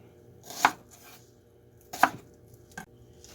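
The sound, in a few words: knife chopping onions in half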